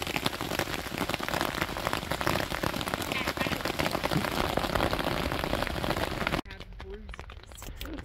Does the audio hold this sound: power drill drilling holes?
no